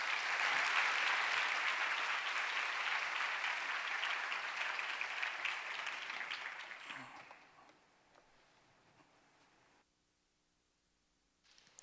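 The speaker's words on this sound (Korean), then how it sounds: "우리 인도네시아 팀장님 나오실 때 우리 뜨겁게 박수해 주시기 바랍니다." Church congregation applauding warmly, a broad, sustained wash of many hands clapping that gradually thins and fades out over several seconds, leaving near silence in the hall.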